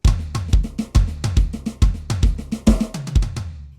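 A drum kit plays a busy fill into the groove, punchy kick and tom hits in a quick, driving rhythm with a crash near the end, close and loud with no talking.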